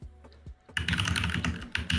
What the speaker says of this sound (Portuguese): Escutem o ASMR de teclado enquanto eu janto minha janta.